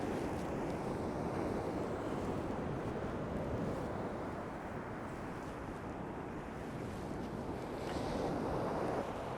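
Waves breaking steadily against chunks of glacial ice on Diamond Beach in Iceland, a continuous loud wash of surf mixed with wind rumble, no voices.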